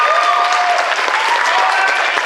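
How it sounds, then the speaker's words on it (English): Loud, close applause from a convention crowd at a cosplay competition, a thick burst of clapping that holds steady for a couple of seconds, with a few cheers and whistles riding over it. "And applause."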